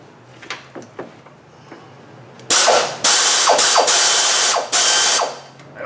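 A socket wrench ratcheting on an oil filter housing bolt of a Dodge/Chrysler/Jeep 3.6 engine, a few soft clicks at first, then loud, close, rapid ratcheting strokes in several bursts, with no talking.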